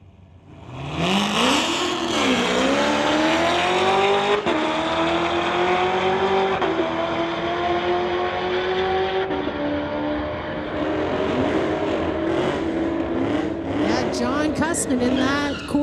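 A 2016 Corvette and a 2018 Camaro launch down a drag strip at a street legal event, engines revving loud and sustained with a rising, shifting whine, with an announcer talking over the cars.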